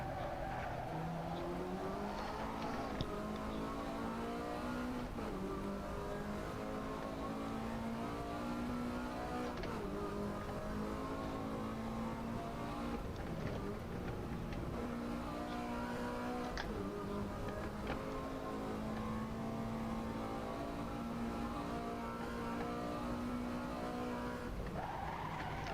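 A modded race car engine from a driving video game, using a sound mod, revs and shifts continuously with rising and falling tones, tire squeal and skidding mixed in, steady and fairly quiet throughout, with no speech.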